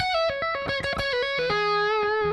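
Overdriven electric guitar rips through a fast legato run in even triplet groupings from a song's solo, notes flowing smoothly from high to lower pitches, loud and up close.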